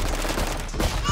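Rapid gunfire from a tactical shooter video game rattles in a dense, continuous burst of close, overlapping shots with no pauses across the short stretch.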